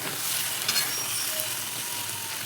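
Soybeans and sesame seeds are stir-fried in a pan, giving a steady close sizzle with a couple of faint scraping stirs and no voices.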